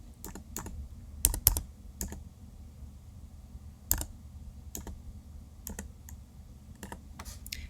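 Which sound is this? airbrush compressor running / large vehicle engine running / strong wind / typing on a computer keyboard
typing on a computer keyboard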